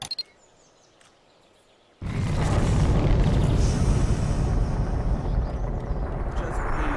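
A GE Mark 10 bomb detonates inside a building in Garry's Mod: after a brief quiet moment a sudden loud blast erupts into a sustained, roaring rumble that stays heavy and continuous for several seconds, with a bit of voice beforehand.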